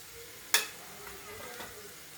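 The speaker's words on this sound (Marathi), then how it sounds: "आणि कढीपत्ता छान तळू द्यायचा खरपूस रंगावरती आपलं लसूण" Curry leaves and garlic fry in hot oil with a quiet sizzle, marked by one sharp spatter near the start and faint stirring afterward.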